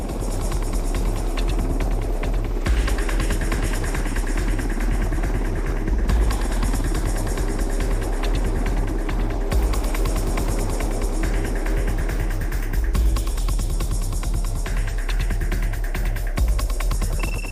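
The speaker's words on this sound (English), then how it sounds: "The UH-60 Blackhawk is the basic troop carrier." A UH-60 Black Hawk military troop-carrying helicopter flies past with a steady, loud rotor thump and engine drone that holds throughout, with no voices.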